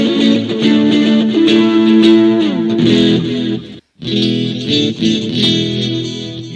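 Distorted electric guitar runs through a Vox amp patch into a 212 cabinet on a Mooer GE300, playing chords and riffs with a brief cut-off near the middle, loud and alone.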